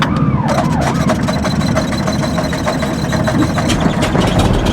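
An aircraft engine runs before takeoff from Hemet, a loud, steady, close drone with a rough, broadband roar that holds without pause throughout.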